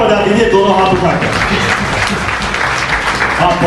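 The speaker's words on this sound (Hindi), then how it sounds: "एक बार तालियां जोरदार बजा दीजिए, दोनों हाथ उठा के" Audience clapping at a Hindi kavi sammelan poetry gathering in Azamgarh, a dense, steady round of applause filling the hall for several seconds, with voices mixed in among the clapping.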